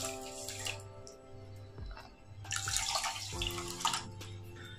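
Water poured from a half-cup measure onto two cups of sugar in a pan, starting a sugar syrup for badusha; a splashing, trickling pour swells in the middle of the clip over a low background hum, with no talking.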